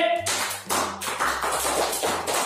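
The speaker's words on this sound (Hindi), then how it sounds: "चलो ताली बजाइए, शाबाश।" Children clapping in a classroom, a short burst of brisk, uneven applause lasting a couple of seconds, with a teacher's voice heard over it.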